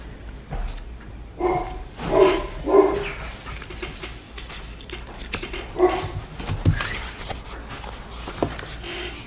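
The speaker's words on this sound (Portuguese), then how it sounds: "Oh, minha cachorra está histérica hoje, não sei o que viu, né?" A female dog barks in agitated bursts indoors, with several loud clustered barks early on, a pause, then more sharp barks and whimpering yips.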